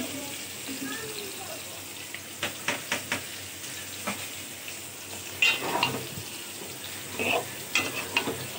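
Chopped bottle gourd in a hot pan for fish curry, giving a steady wet sizzle with intermittent clinks and scrapes of stirring, close up and fairly quiet throughout.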